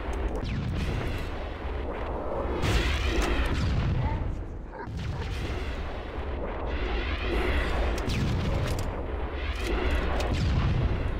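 In Halo: Combat Evolved, a missile launcher fires and its rockets explode in a series of heavy, booming blasts. The booms repeat every few seconds over continuous battle rumble.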